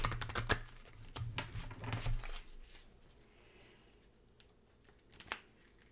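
Quick riffling and snapping of tarot cards being shuffled, crisp bursts clustered in the first couple of seconds, then a few isolated soft taps and quieter handling.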